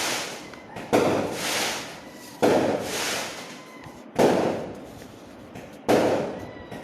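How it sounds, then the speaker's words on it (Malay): Firecrackers go off on Hari Raya Aidilfitri night: four sharp, loud bangs spaced roughly a second and a half apart, each followed by a crackling, rumbling tail that fades before the next. "berlawan lah saya dengan mercun kat ni"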